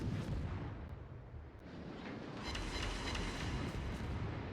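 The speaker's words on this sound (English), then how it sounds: "Scharnhorst is going to make quick work of him" Heavy naval gunfire from the Scharnhorst battleship in World of Warships, a dense rumbling boom that rolls on continuously with deep low-end weight and a brighter crackling blast swelling toward the end.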